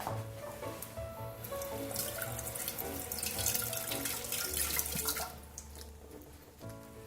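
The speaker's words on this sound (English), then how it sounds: "I'm going to rinse these sea vegetables." Running tap water splashes steadily into a kitchen sink while sea vegetables are rinsed under it; the stream swells and hisses for several seconds, then cuts off, leaving faint drips.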